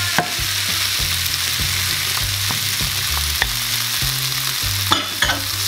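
Tomato and green peas sizzle steadily in a hot pan with browned ginger paste, and a spoon stirs them with repeated soft scrapes and clanks over a constant frying hiss, close and loud.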